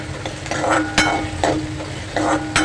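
Chopped onion frying in hot oil in a pan for a fish thali meal, with a steady sizzle broken by several louder scraping stirs at a loose, irregular rhythm, close and fairly loud.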